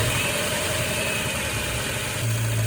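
A 1967 Mustang engine idles close by with a steady low rumble and a faint whine above it, its note thickening slightly near the end.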